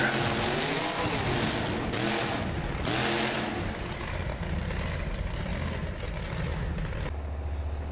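A monster truck called Avenger races in the BeamNG Drive video game, its engine revving and roaring loudly in rising sweeps before cutting off abruptly.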